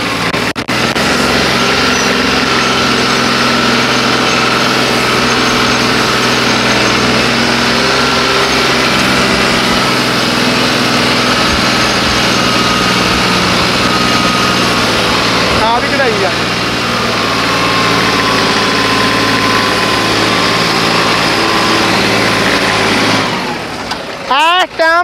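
A New Holland 3630 tractor diesel engine, modified with a turbo, runs steadily and loudly for about 23 seconds with a constant droning hum, then cuts off near the end.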